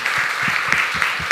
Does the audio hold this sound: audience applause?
yes